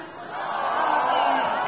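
A crowd roars and cheers at a political rally in Padang, a sustained, swelling wall of voices with no single voice standing out.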